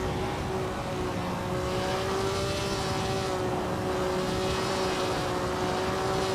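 A Lotus 49 classic race car engine in a racing video game, holding a steady, loud high-pitched drone with a sustained tonal whine throughout and no clear gear changes.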